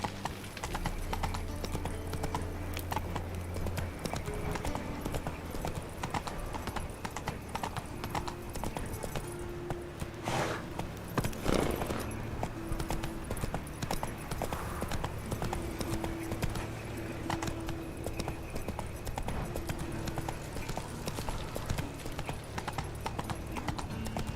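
A horse trots in the video game The Witcher 3, its hooves clip-clopping in a continuous even rhythm with a brief whinny partway through, against a low game background.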